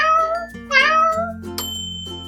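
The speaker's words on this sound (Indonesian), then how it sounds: "K untuk kucing." A domestic cat meowing in a few clear, close, drawn-out calls with bright tonal harmonics, heard alone over a soft musical background.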